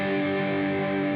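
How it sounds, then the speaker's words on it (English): A distorted electric guitar sustains a G5 open-position power chord, struck once and ringing loud, thick and steady throughout with no talking. "We'll strum that chord once again and let it ring out"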